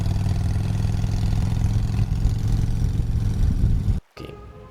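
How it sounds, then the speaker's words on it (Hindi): A special motorcycle engine in an animated Super Commando Dhruv story runs with a steady, loud mid-range drone, then cuts off abruptly near the end as it stops. "हवा से बातें करती उसकी स्पेशल मोटरसाइकिल सीधे पर्ल हार्बर पर ही जाकर रुकी।"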